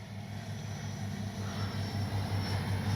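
An FMS Avanti S 70mm electric ducted-fan RC jet flies overhead, giving a steady whining drone with a low hum that swells slightly louder toward the end, heard alone without talk.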